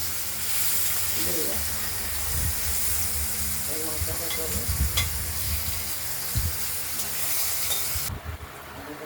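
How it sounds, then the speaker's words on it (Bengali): Potatoes fry in a pan ahead of a katla fish curry, giving a continuous hissing sizzle with occasional spatula scrapes and stirring knocks close by. "প্রথমে আলুগুলোকে ভাজা করে নেবো"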